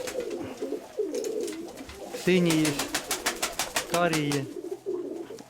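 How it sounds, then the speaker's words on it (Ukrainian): Pigeons coo close by in repeated rolling calls, several bursts overlapping with a person talking nearby. "Це мій старий голубок."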